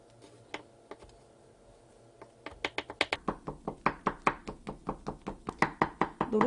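A knife chops through thin egg yolk omelette (jidan) on a cutting board, starting with a few sparse taps and then settling into a quick, steady run of crisp knocks that grow slightly louder, close up with no talking.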